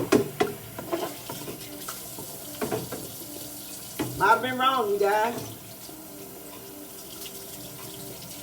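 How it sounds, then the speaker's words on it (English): A kitchen tap runs water over broccoli being rinsed before steaming, splashing and gurgling in short bursts and then a longer stream, with someone speaking over it. "I'm going to rinse this broccoli off real fast."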